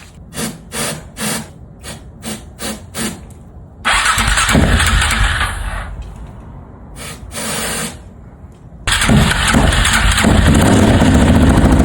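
A 1999 KTM LC4 single-cylinder motorcycle in a garage, cranked several times with short bursts before catching after six months unused with starting spray, then running loud and rough at idle, briefly dropping and picking up again.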